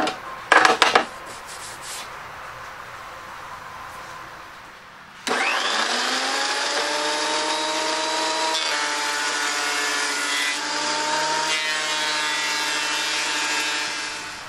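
A lunchbox thickness planer feeds wooden boards after a few sharp knocks, then a loud steady whine and cutting roar runs for about nine seconds with slight pitch shifts as the board passes through.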